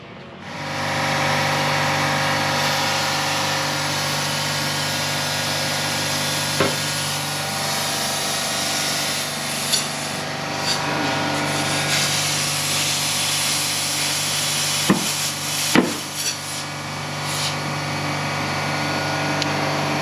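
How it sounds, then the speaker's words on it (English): A steady hiss of air flowing under a constant mechanical hum, with occasional clicks and creaks as an air suspension bellows inflates nearby on a Swift Carrera campervan. "that's just getting the first bit of air in, just to get it taking its shape"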